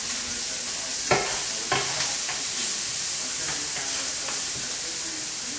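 Onions cooking gently over low heat in a pan give a steady, close sizzling hiss, with a few soft stirring scrapes breaking through the even frying noise.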